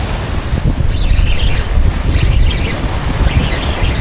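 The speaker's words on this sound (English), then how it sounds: "the waves get bigger and bigger as the tide rises here, so that's what we're witnessing right now" Ocean waves surging in with the incoming tide beneath a Rhode Island bridge, a loud continuous wash and roar mixed with gusty wind buffeting the microphone.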